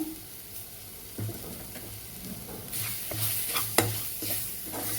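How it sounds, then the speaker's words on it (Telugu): A spoon stirs turmeric, kasuri methi and tomato puree in a hot pan, with steady sizzling and frying throughout and scraping strokes rising toward the end, close and moderately loud. "ఇవన్నీ ఒకసారి మిక్స్ చేసేసి టొమాటో ప్యూరీ వేసేస్తాను."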